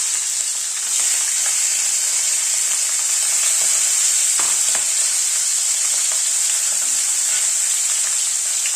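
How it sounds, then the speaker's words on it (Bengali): Tangra fish fry in oil over a medium gas flame, giving a steady, close, hissing sizzle that keeps going with small crackles and no voices. "গ্যাসের ফ্লেমটাকে মিডিয়ামে রেখে মাছটাকে ভেজে নিচ্ছি।"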